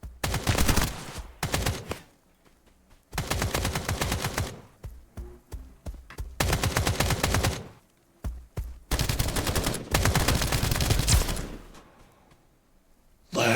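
Bursts of gunfire from armor-piercing rounds in a video game, loud and close, coming in several long sustained volleys separated by short quiet gaps.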